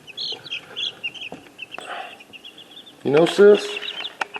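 Chickens cluck in a backyard chick setup, their short calls scattered and fairly near, with a burst of louder squawking near the end while a person talks over them.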